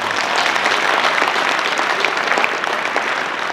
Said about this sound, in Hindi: इसलिए उनके अभिवादन के लिए एक बार जोरदार ताली हो जाए।